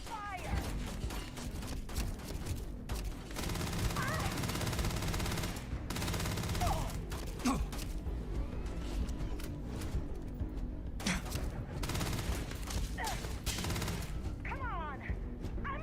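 Sustained bursts of gunfire in the space game Starfield crackle through a busy firefight, loud and continuous, with shouted voices under the shooting.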